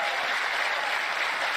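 Audience applause fills a town hall event, a steady dense wash of clapping from a large crowd, loud and continuous with no gaps.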